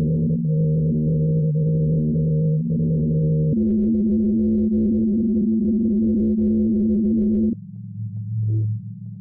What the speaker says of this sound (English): the ice is singing